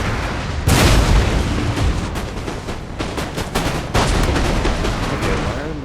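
Artillery and musket fire in a gunpowder-era warfare video game, with dense, overlapping booms and crackling volleys rolling on continuously, including sharp louder blasts near the start and again toward the end.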